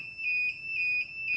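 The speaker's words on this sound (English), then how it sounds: "So you can hear the siren is already going off." A Kombora III security system alarm siren sounds alone as a steady, loud electronic tone, pulsing slightly in brief swells across the short stretch.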